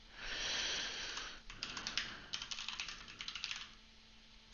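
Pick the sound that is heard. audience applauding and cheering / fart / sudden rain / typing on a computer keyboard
typing on a computer keyboard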